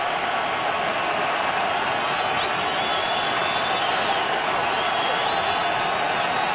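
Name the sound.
stadium crowd cheering at an NFL football game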